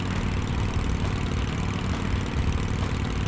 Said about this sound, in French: Ma grosse moto.